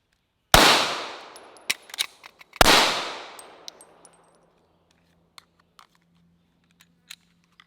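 Two loud Hi-Point 9mm carbine shots crack out at an outdoor range about two seconds apart, each with a long decaying echo, followed by scattered faint clicks and handling noises.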